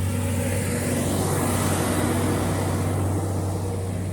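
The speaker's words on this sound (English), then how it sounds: "sorry about that, a rare truck up here in rural Singapore" A truck rumbles past on a quiet rural road in Singapore, a loud, steady roar close by with heavy low-end engine drone that fills the whole moment without any voices.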